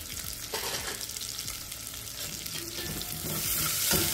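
Salted onions fry in a pan for South Indian sambar, crackling and sizzling continuously up close, with frequent stirring scrapes and clatters that grow a little louder toward the end.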